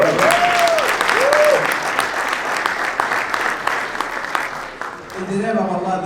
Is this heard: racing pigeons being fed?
no